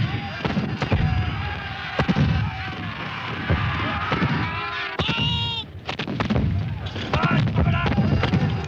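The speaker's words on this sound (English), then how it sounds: "We counted 15 to 20 shots fired by our artillery to every one fired by the rebels." Cannon artillery booms in a 1964 film of the Battle of Culloden, several sharp, loud blasts spaced irregularly amid battlefield noise and shouting voices.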